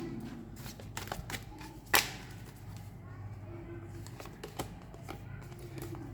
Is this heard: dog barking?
no